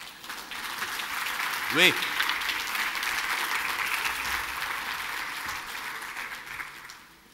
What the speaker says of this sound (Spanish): Un aplauso para estos dos.